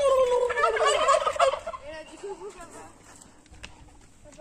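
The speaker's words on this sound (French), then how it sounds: "Regardez le dindon, les dindons." Turkeys gobbling at a farm in Greece, a loud rippling burst of gobbles up close in the first second and a half, then quieter calls and faint background sounds.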